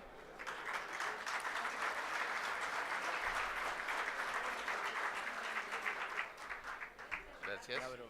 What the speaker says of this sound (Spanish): presidente del Banco Central, Mario Vergara, a quien recibimos con un fuerte aplauso.